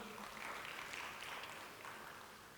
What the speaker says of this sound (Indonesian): Beri tepuk tangan buat nama Tuhan.